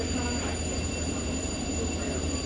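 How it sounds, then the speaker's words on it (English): Inside a Tri-Rail commuter train in Miami as it couples to another train and begins moving north: a steady, dense rumble with faint high whine and no distinct clanks. "we have definitely coupled up to the train behind us, and we are starting to move north again"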